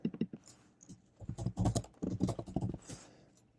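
Bursts of keystrokes on a computer keyboard while typing a font name as a file name, quick irregular clicks in clusters, close and clear with no voices.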